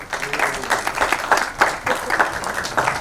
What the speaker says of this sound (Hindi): एक बार फिर से दोस्तों जोरदार तालियां